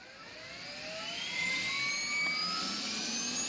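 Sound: Apache helicopter engine starting in video game DayZ

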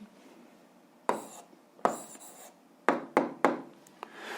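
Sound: writing down an answer

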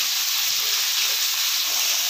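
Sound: garlic frying in a pan with onions

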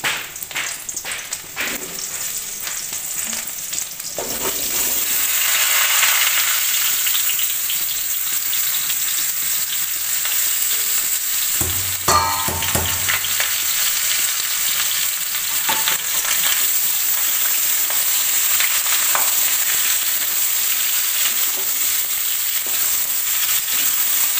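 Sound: potatoes frying in hot oil

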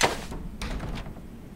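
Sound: doors being unlocked in the video game Neverwinter Nights 2

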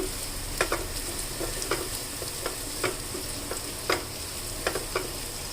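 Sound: prawns frying with chilli powder and coriander powder

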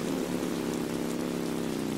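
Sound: rain in the video game Roblox Bloxburg

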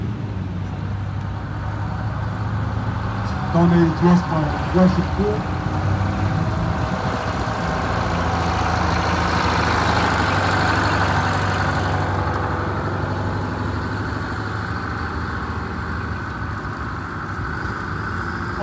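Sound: 1969 GM Suburban bus V8 engine running

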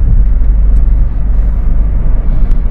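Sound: Jeep Grand Cherokee WK CRD 2005 cruising on motorway

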